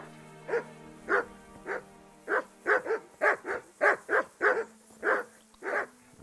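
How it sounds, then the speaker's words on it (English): Dogs in Kingdom Come: Deliverance bark loudly and repeatedly in a fairly regular series of about fifteen barks close by, sounding alone over a faint low hum. "the dogs see me now"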